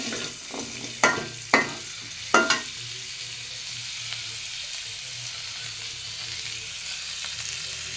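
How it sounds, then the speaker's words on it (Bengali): Pieces of drumstick vegetable fry in hot oil for shukto, a steady soft sizzle running throughout, with a few sharp clatters of utensil against pan early on before it settles into an even hiss. "এবার এই তেলের ভিতরে সজনের ডাঁটাগুলো ভেজে নিব।"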